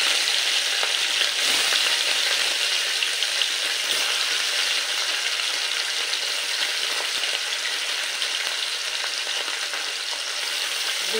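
Small piali fish fry in hot mustard oil with a loud, dense, continuous crackling sizzle that holds steady throughout.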